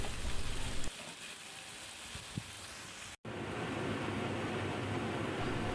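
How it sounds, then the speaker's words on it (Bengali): Chopped onions fry in oil in a pan for chicken korma, giving a steady close hiss and sizzle with a short break partway through. "এখন এই পেঁয়াজ কুচিটাকে আমি বেশ কিছুক্ষণ ভেজে একটু গোল্ডেন কালার নিয়ে আসবো"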